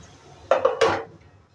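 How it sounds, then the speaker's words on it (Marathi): A metal wok is set down on a stove with a few quick clanks and scrapes, close and sharp, then a short ringing fade. "मी इथे एक कढई ठेवलेली आहे,"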